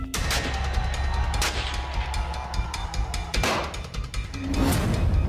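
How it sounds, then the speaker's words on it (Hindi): Rapid bursts of gunfire crack through a loud, dense din on the streets of Karachi, Pakistan, shots overlapping in an ongoing chaotic exchange. "कहीं गोलियों की गूंज"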